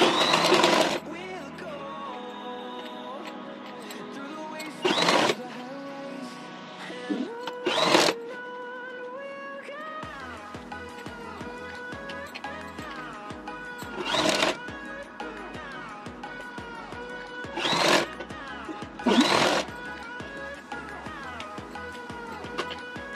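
A sewing machine hemming cloth in bursts of rapid stitching, several short loud runs separated by quieter stretches with someone talking over a faint background hum.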